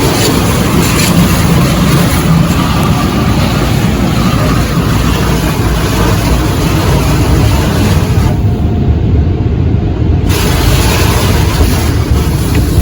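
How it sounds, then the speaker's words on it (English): Water spraying steadily at a car wash to rinse soap off a truck, a loud continuous hiss and rush throughout with a brief drop partway through. "Now they are putting water to clean the soap,"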